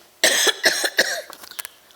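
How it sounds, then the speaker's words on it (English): One person coughs loudly several times in quick succession, harsh bursts that trail off into softer throat sounds. "Excuse me, I'm going to have to cough."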